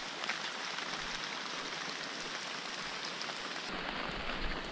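Steady rain pours down in the Alakai'i swamp rainforest on Kauai, a dense continuous hiss of drops on foliage and surfaces with no voices, a slight shift in tone near the end.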